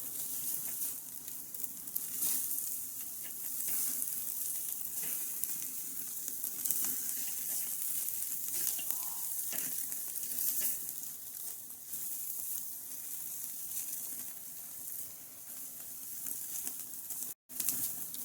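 Steaks searing on a grill hiss and crackle in a steady bright sizzle, close and continuous, with a brief dropout near the end.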